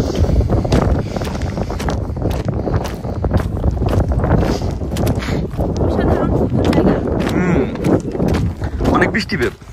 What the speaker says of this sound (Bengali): ছাতা উড়াই নিতেছে অনেক বাতাস